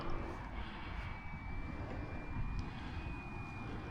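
A biplane's propeller engine drones steadily overhead, a continuous buzzing whine with a faint high tone, moderately loud and unchanging.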